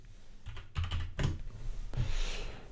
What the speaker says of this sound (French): je vais rajouter au clavier